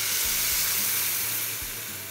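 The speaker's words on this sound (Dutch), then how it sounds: "Dit gaan we mooi bevochtigen met kippenfond." Chicken stock is poured over chickpeas in a hot pan for hummus, producing a loud, continuous sizzle and hiss that holds steady and then eases slightly toward the end, with no talking.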